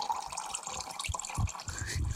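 Water trickles and splashes out of a vehicle's differential during a check on the Carretera Austral road trip, a steady close liquid flow with a few heavier gurgling bursts and low thumps.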